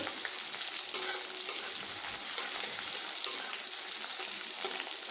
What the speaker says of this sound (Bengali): টমেটোগুলোকে আমি হালকা এইভাবে ফোড়নের সঙ্গে একটু ভেজে নেব